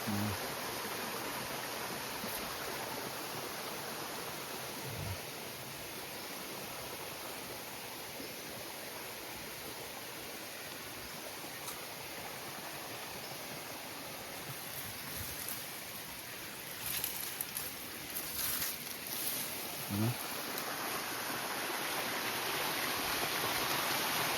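Steady, close rushing of a waterfall and stream at a secluded spot, a dense continuous roar with a few brief splashes and stirrings near the end, with no voices.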